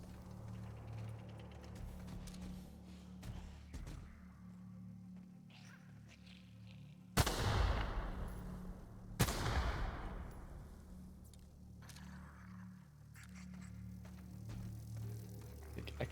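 Two sharp, loud gunshot blasts about two seconds apart, each with a short decaying tail, aimed at trip mines in The Outer Worlds, over a low steady game hum with faint ticks in between.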